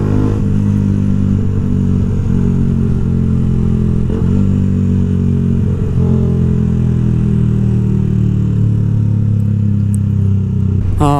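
A Yamaha YZF R125 motorcycle being ridden, its small engine droning steadily and loudly at a fairly constant pitch with brief shifts in revs and a rush of wind.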